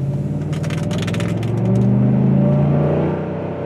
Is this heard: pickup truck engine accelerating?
yes